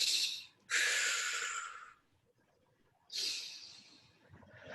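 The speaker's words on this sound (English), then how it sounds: "take a breath in and then exhale as you reach up" Two strong breaths during a yoga flow, a long inhale and then an exhale through the nose, with a quiet pause between them and a third breath starting at the end, close and alone.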